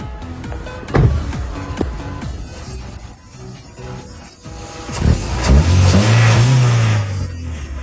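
A car that had trouble starting cranks at the ignition, catches and fires up, then revs with a rising, loud nearby engine tone, with clunks and mechanical noise before it.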